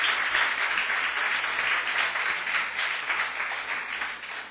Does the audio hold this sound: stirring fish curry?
no